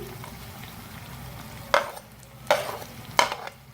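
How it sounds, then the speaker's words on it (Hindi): Fried okra goes into mutton cooking over a medium flame and gets stirred, with three distinct scraping stirs of a spoon in the pan over a low steady sizzle. "अब इसमें हम भिंडियाँ ऐड करेंगे जो हमने फ्राई की थी"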